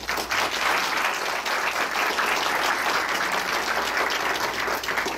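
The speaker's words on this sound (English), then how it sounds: "let's give him a round of applause" Steady audience applause at a school district board meeting, an even, continuous patter of many hands clapping for several seconds with no break.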